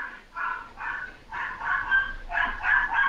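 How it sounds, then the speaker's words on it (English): A dog barks in a rapid series of sharp, yappy bursts, about eight in a row, fairly close and loud, with no talking over it. "Bro, your dog is going nuts."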